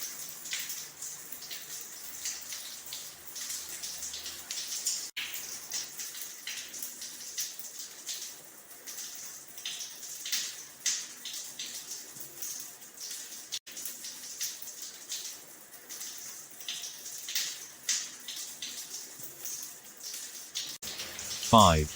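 Water splashes steadily while the face is washed with both hands during a ghusl ritual, a continuous close running-water wash with soft irregular splashes throughout.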